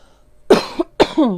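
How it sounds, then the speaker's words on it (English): Two harsh coughs in quick succession, close and loud, each a sharp burst trailing into a short voiced rasp. "wow, I'm so sorry about coughing."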